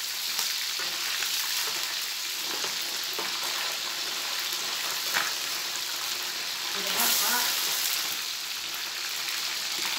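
Catfish frying in a pan, a dense, continuous hiss and crackle of hot oil heard close and steady, with occasional faint clinks in the background and no voices.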